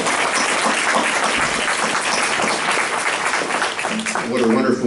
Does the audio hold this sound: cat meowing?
no